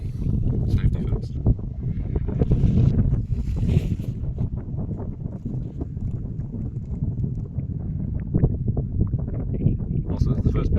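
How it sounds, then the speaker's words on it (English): Wind blowing outdoors at Mt Remarkable buffets the microphone with a loud, continuous low rumble that swells and gusts throughout, heavy and close. "this is the first bit of wind I've found in 2 days"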